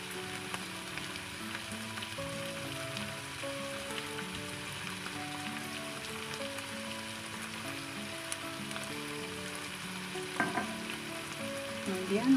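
Food in a pan with honey added, sizzling and frying steadily while being stirred, with a dense crackle throughout and a few louder scrapes near the end.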